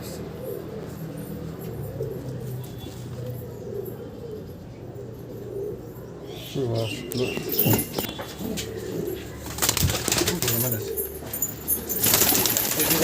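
Rajasthani kalsira pigeons coo in a loft, a low steady murmur of cooing running throughout with rustling and louder bursts of activity in the second half, while people talk over it.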